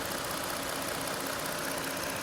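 The 3.6-liter Pentastar V6 in a 2020 Chrysler Voyager runs at a steady idle, a smooth continuous hum with a fine, even texture, heard close up with no talking.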